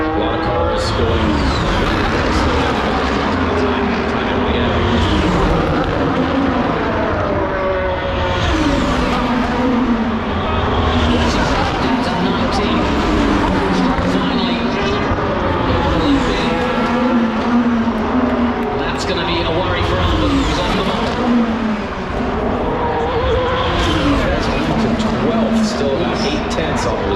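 Formula 1 cars lap during qualifying at the Las Vegas Grand Prix, engines howling loudly and continuously with rising and falling pitch as cars pass, while a commentator talks over the roar.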